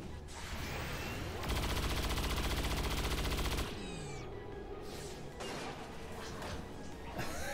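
Explosions and gunfire in the video game XCOM 2: a dense, loud burst of rapid crackling blasts lasting about two seconds, followed by a descending whine, scattered debris impacts and smaller crackles as the din settles.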